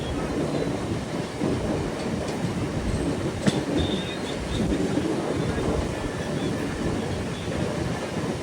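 A MEMU passenger train on the Kakinada to Visakhapatnam line rumbles steadily along the rails with broadband wheel noise, a few sharp clanks and a faint squeal, continuous and close.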